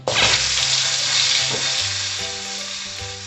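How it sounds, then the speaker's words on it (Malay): Loud, steady sizzling of lamb shank frying in hot oil in a wok, a dense crackling hiss close by with faint background music underneath. "panaskan minyak dalam kuali dan goreng betis kambing"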